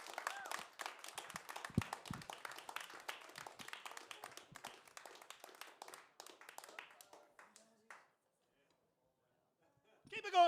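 Live comedy club audience applauding and clapping for comedian Leland Newton in Portsmouth, NH, dense claps with a few scattered whoops for about eight seconds, then a brief lull before sound picks up again.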